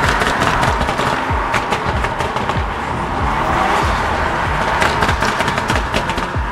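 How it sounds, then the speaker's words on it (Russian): A grandpa's old Skoda Octavia with exhaust popping and crackling in a rapid irregular string of sharp bangs over a loud, steady engine roar, close to the microphone. "Попкорн это что для непонимающих? Ну, выхлоп, когда хлопает."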